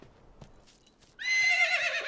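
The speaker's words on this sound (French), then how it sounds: "Bonjour, cheval." A horse in a stable lets out a loud, close whinny, a shrill, quavering neigh that follows a few quiet shuffles and soft knocks.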